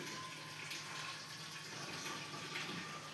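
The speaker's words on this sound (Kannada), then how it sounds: "3 ಕಪ್ ಬೇಳೆಗೆ 1 ಲೀಟ್ರ್ ನೀರು ಹಾಕಿದ್ದೀವಿ" Steady pouring water runs continuously at low volume into a pressure cooker of lentils, a smooth even rush with no talking.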